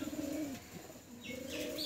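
Soft, low coos of Giribaz pigeons rolling in two phrases, close by, with faint higher bird chirps near the end.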